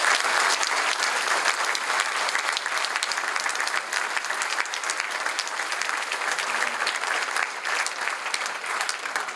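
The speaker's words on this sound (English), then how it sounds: "I think it's a round of applause for Steve and Cipriani." Enthusiastic applause from an audience fills the room, a thick continuous patter of many hands clapping that holds strong for several seconds.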